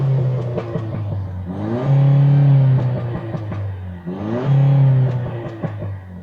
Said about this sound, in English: let's see what the hybrid sounds like